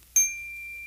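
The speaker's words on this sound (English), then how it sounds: "Whenever you hear that bell, turn the page." A small hand bell gives one clear, close ding, and the bright metallic tone rings on steadily through the short quiet that follows.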